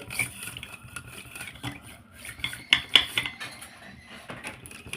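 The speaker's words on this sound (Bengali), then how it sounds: "দুধটা আর চিনিটাকে ভালো করে একটু ফাটিয়ে নেব এটা কাঁটা দিয়ে নিয়ে একটু ফাটিয়ে নিচ্ছি" A fork beats warm milk and sugar in a bowl for malpua pitha batter, making quick, uneven scraping and clinking strokes with a few sharper metallic taps close by.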